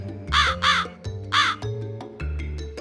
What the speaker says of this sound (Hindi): तुरंत एक कौवा उड़कर गया और अपनी चोंच में एक चमकदार बड़े हीरे की अंगूठी लेकर आया और सदानंद के गोद में डाल दी।